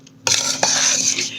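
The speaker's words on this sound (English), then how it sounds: "I'm going to stir this in" A utensil scrapes and clinks against a bowl as seasoning is stirred into a dry chicken-fry flour coating mix. The strokes are brisk, close and brief, with no talking.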